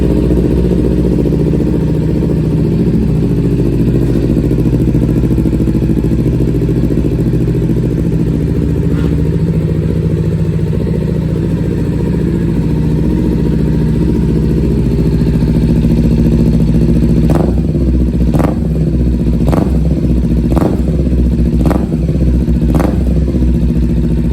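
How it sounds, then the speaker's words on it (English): Kawasaki Ninja 400SE motorcycle fitted with a LeoVince performance exhaust pipe, its engine idling with a loud, steady, grunty rumble close by, then several sharp throttle blips near the end. "we're about to do the first fire up with the new pipe"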